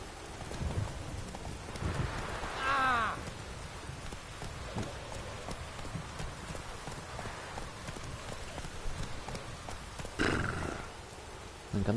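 Roach, Geralt's horse in The Witcher 3, clip-clops steadily over wet ground through a rainy game scene, with a short whinny near the start and another snort or neigh near the end.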